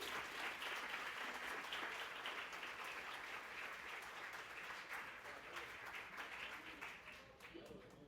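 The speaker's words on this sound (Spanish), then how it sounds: "Pónganse en pie y vamos a darles un aplauso." Church congregation applauding during a Spanish-language sermon after a call to stand, steady dense clapping filling the room throughout, tapering slightly near the end.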